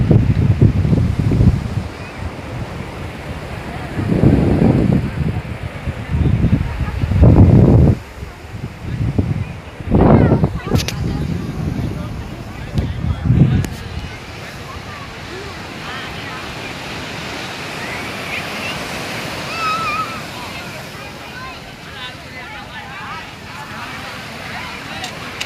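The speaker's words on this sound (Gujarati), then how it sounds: "જોવો મોજા તમે જોવો ખાલી" Sea waves and wind at the seashore, a steady wash of surf and gusty wind noise, with bursts of talk over the first half and the waves alone afterward.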